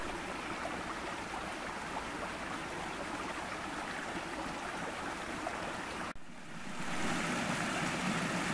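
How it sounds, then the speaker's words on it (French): Water babbles and rushes continuously, a steady close-up burble that briefly cuts out near the end before returning slightly louder. "j'ai encore découvert un joli petit ruisseau"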